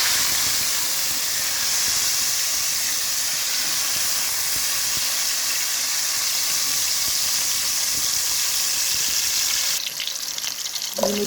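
Tomato dropped into a hot pan while cooking spicy beef liver, giving a loud, steady sizzle and hiss that runs nearly throughout before a brief clatter near the end.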